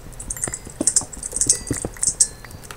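Quick bursts of typing on a computer keyboard during a Minecraft session, irregular key clicks in short clusters, close and fairly quiet with no talking.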